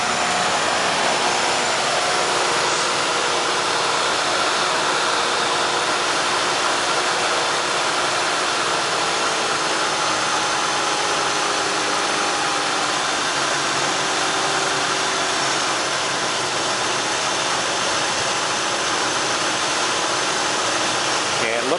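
A 1989 Lincoln Town Car engine idles steadily after a vacuum line repair, its constant broadband running noise heard up close for the whole stretch without surging.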